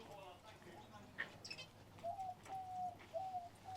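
Small caged birds in a beer garden aviary give soft coos and thin whistled calls at a moderate distance, with faint background chatter and outdoor ambience.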